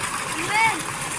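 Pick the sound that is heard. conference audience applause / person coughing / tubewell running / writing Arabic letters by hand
tubewell running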